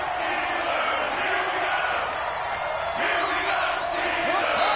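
A home crowd at a football game roaring and cheering steadily, a dense, loud, sustained wash of voices that never lets up.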